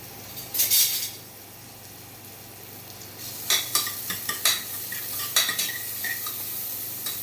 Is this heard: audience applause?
no